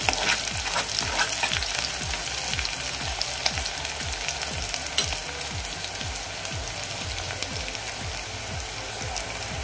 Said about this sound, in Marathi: कांदा आपला गोल्डन ब्राउन होईपर्यंत आपल्याला परतायचा आहे।